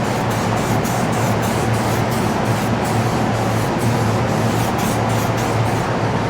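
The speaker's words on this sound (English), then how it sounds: "now I'm gonna take this reducer and just spray the edges of my blend" Spray gun misting hot reducer over the blend edges of a small sealer and paint repair on a car, a steady continuous hiss with rapid pulsing bursts, close and unbroken throughout, with no one talking.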